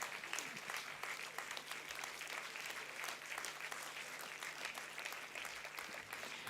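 A large audience at a university convocation keeps up steady, dense applause, continuous clapping at an even level throughout with no voices standing out above it.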